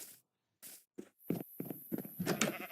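Sheep bleat in a video game, several short bleats separated by pauses, close and clear, with no one talking over them.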